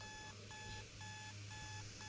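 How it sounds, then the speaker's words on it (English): An alarm clock rings with steady, evenly spaced electronic beeps, repeating in a regular pulse about twice a second, faint and distant under a constant background hum. "I got the alarm clock."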